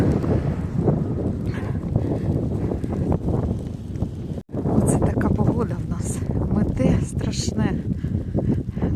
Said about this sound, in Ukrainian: Ух, завірюха страшна.